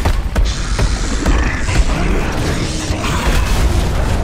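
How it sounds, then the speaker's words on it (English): A door being smashed in the Gears of War Ultimate Edition video game, with repeated heavy booming impacts, creaking and metallic clanks in quick succession, loud and close over a dense rumbling background. "Why don't you come here and smash this fucking door?"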